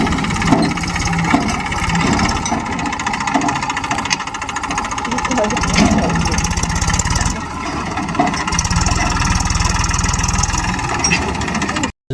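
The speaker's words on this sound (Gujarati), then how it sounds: "આવી ગયું છે ટ્રેક્ટર." A tractor engine idles steadily on a farm during a millet threshing harvest, giving a continuous, moderately loud drone throughout while people talk over it.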